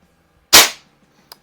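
A single sharp, loud crack from a vintage JC Higgins CO2 pellet rifle made by Crosman, decaying quickly, followed by a faint metallic click about a second later.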